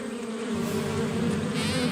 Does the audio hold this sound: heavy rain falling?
no